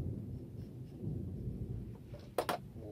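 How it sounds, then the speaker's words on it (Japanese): Thunder from a storm rumbles as a low, continuous distant roll, faint and muffled indoors where leather work is underway, with a couple of brief sharper knocks near the end and no talk. "もう雷がすごいですよ"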